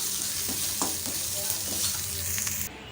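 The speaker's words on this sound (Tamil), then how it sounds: "அப்படியே இந்த எண்ணெயிலே எல்லாமே நல்லா தாளித்து ரெடி ஆகட்டும்" Spices temper in hot oil for a South Indian tiffin batter, crackling and sizzling steadily up close with a few stirring scrapes, cutting off abruptly at the end.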